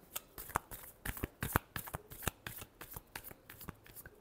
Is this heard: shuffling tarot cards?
yes